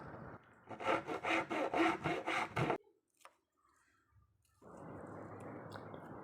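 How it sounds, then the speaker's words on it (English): Hand sawing of a small wooden penholder piece, close and loud: a quick burst of about seven rhythmic strokes, a brief pause with faint knocks, then a steadier continuous rasp of the blade through the wood. "And now there is some sawing."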